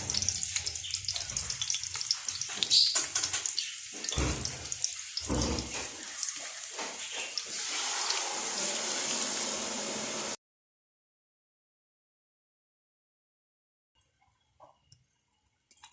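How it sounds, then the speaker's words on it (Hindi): Jaggery syrup poured into a hot pot of ghee with almonds and coconut for sweet rice, a close hissing sizzle with liquid splashes and knocks for about ten seconds before cutting to near silence. "और हम इसमें अब डाल देंगे शीरा।"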